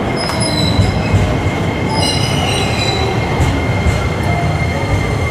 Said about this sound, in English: And this colorful train